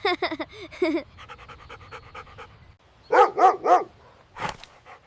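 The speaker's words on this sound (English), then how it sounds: "Why do you bark so loud" Dog barking loudly in a household, a burst of barks followed by quieter panting, then another run of three sharp close barks and a single final bark.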